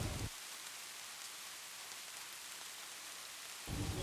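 Steady heavy rain pours down with dense, even hiss throughout, a continuous downpour sound effect with no voices, the thunder not clearly distinct beneath the rain.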